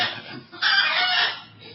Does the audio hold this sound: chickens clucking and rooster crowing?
yes